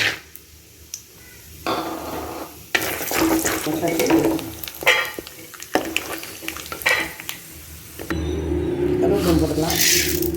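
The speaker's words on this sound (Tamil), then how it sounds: "எண்ணெய் காஞ்சிட்டு மல்லாட்டை வறுத்து" Peanuts fry in hot oil in a pan for poha upma, with sizzling and spoon stirring against the pan in uneven bursts while a person talks at times.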